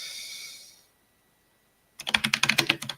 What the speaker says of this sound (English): I got a new keyboard, so it's very loud